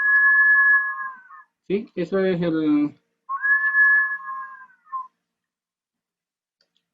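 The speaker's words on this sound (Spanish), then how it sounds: "en el otro extremo tiene un silbato que al tener una cámara de resonancia, que es esta que está afuera, se le llama cámara de resonancia, provoca el segundo sonido" A whistling vessel with a water chamber and an outer resonance chamber gives two long, steady, clear whistles, separated by a brief spoken word from a nearby voice.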